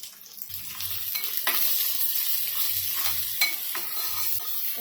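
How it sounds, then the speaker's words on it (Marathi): Ginger-garlic paste and green chilies fry in a pan for a dried prawn dish, giving a steady sizzle broken by repeated scraping stirs of a spatula, close and alone. "हे आले लसूण पण यांना छान भाजलेलं आहे"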